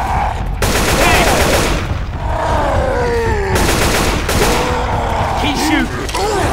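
Sustained bursts of gunfire in the video game Left 4 Dead 2 during a Tank attack, loud near automatic shooting with brief gaps, mixed with groaning and shouting voices.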